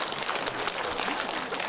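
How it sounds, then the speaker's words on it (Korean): Brief burst of applause at a housing cooperative general assembly meeting, members clapping densely together in a short steady burst with no talk. "자, 박수"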